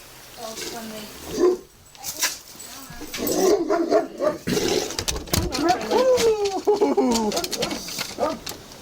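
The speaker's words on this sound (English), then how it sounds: "Big dog." A big dog barks amid people talking, the barks mixed in with overlapping voices and some bird cooing nearby.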